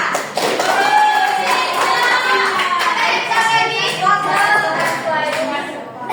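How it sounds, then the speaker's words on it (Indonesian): A classroom of primary pupils claps for a classmate during a micro-teaching lesson, a scattered patter of small hands under overlapping children's voices and chatter. "tepuk tangan untuk Sensa."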